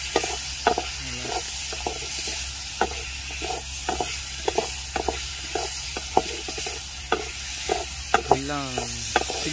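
Chilli sauces hit prawns frying in a pan and set off a steady, close sizzle. A spoon stirs and scrapes through them with repeated sharp knocks, and a sputtering burst comes near the end.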